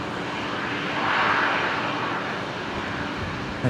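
An Emirates airliner passing at Brisbane Airport gives a steady broad jet roar that swells slightly midway, then settles, heard from a distance without voices.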